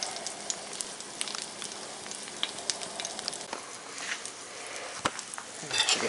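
A burger patty fries in a pan with a steady close sizzle and scattered pops and crackles, fairly quiet and continuous.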